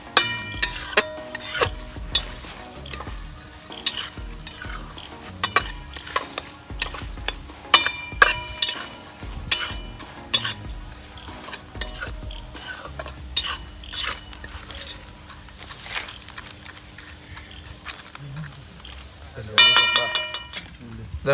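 Khajur pak mixture with pistachios frying in a pan outdoors on a farm, stirred with a metal spoon that scrapes and clinks against the pan in irregular bursts, under intermittent talk.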